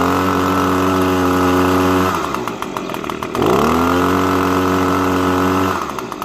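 An Echo PB250 leaf blower's small two-stroke engine runs loud and close, holding a steady buzzing drone, then dipping and surging in pitch midway before settling back to a constant high whine and easing off at the end.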